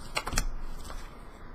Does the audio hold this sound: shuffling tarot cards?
yes